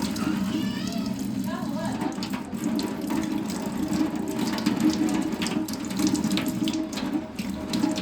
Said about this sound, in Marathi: हे तोडलेले खेकडे जे आहेत त्याला नंतर असं धुवून